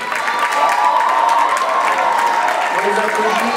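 Audience at a school math conference closing ceremony in a hall clapping steadily, dense and fairly loud, with voices and some chatter mixed in throughout.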